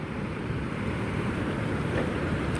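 The Progo river flows below a dam at Srandakan, a steady, dense rushing roar of water, constant and close without pause.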